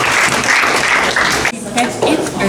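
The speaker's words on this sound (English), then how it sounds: "Please give a round of applause for them." Audience applause at an Asian chemistry educators' conference in Kuching, a dense wash of clapping for about a second and a half before breaking off into quieter room sound with talking.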